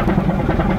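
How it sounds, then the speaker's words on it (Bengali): Engine of the Parabat 12 passenger launch on a night river crossing from Dhaka to Barisal, a steady low idling drone with constant loudness throughout, close by and with no voices over it. "আর ইঞ্জিনের সাউন্ড তো লাজবাব।"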